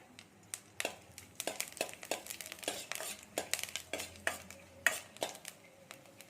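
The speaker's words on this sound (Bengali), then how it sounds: "এবার আমরা দিয়ে দিলাম শুকনো লঙ্কা ফোড়ন, আর দিয়ে দেবো 5 ফোড়ন।" Dried red chili and five-spice seeds sizzle in a little hot mustard oil in a karahi, with repeated close clinks and scrapes of a spatula against the pan and no talking.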